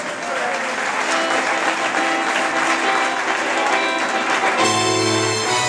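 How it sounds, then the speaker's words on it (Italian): Wedding guests greet the entering bride and groom, Ciro and Imma, with loud sustained clapping, and music comes in toward the end beneath the continuing applause. "facciamo un forte applauso, forte forte agli sposi"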